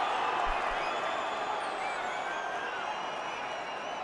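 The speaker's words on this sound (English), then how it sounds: "the noise from the crowd tells you the story" A cricket crowd roars steadily for a boundary cut by Babar Azam, a dense sustained wash of cheering and whoops with a commentator's voice faintly underneath.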